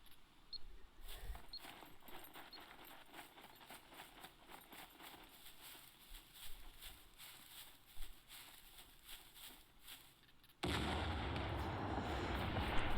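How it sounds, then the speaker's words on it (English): A C4 charge detonates in the survival game SCUM: after a stretch of quieter ambient crackle, one sudden loud explosion hits near the end and its roar holds at full volume to the close. "Yeah, you see there was only one explosion there"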